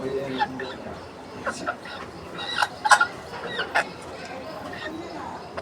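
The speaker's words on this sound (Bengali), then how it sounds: "এই যে বন্ধুরা মোরগটা" A native desi rooster gives soft, scattered clucks and short calls nearby, with a few sharper bursts in the middle, over a low background murmur that may include quiet voices.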